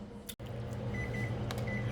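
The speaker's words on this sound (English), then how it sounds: "that is the timer for our little sauce mixture here" A kitchen timer beeps while a sauce mixture sits ready for a lasagna soup, giving short, fairly faint electronic tones in two brief bursts over a steady background hum.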